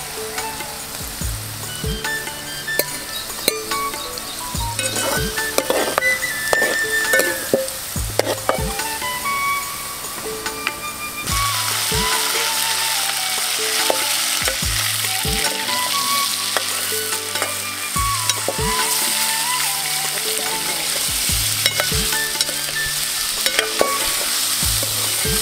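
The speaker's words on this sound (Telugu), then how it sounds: "అదే గిన్నెలో చికెన్ వేసుకొని ఒక 5 నిమిషాల పాటు వేయించుకోవాలి." Chicken pieces frying in oil in a cooking pot for chicken korma, a steady loud sizzle with occasional stirring scrapes and clinks throughout, no talking.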